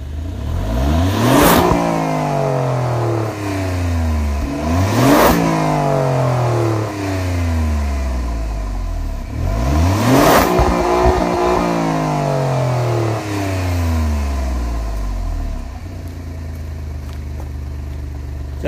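A 2017 Alfa Romeo Giulia Quadrifoglio in normal mode revs hard three times, each blip climbing then falling back to a steady mid-pitched idle. The engine is loud and close, with no voices over it.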